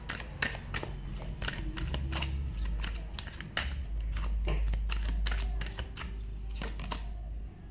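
Tarot cards being shuffled by hand, a run of quick papery riffles and flicks spread across several seconds, close and fairly soft over a low background hum.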